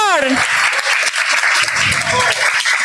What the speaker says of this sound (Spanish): Un aplauso, por favor, para Mercy Borbor.